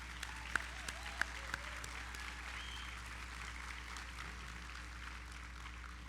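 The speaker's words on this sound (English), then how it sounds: "So let's give the faculty a round of applause." Audience applause for the faculty at a spring nursing pinning ceremony, a fairly faint, steady patter of clapping throughout with a few sharper isolated claps standing out near the start.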